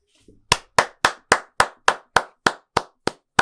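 A run of about eleven sharp, evenly spaced hand claps at a steady moderate pace, close and crisp, with no voices.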